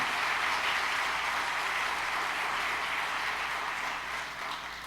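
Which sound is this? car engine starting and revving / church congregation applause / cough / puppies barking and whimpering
church congregation applause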